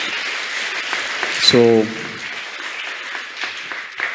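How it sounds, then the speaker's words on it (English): Audience applause for a family at a speech on scholarships, moderate clapping beneath a speaker's amplified voice, with a short tonal chime partway through. "Please clap for that family."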